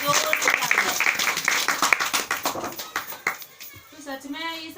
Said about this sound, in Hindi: हमारे पवित्र गुरु के लिए जोर से तालियां और हमारे परमेश्वर के लिए जोर से तालियां।